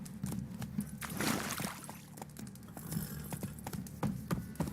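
Geralt's horse Roach gallops in The Witcher, with rapid rhythmic hoofbeats clopping close and steady over a low rumbling background.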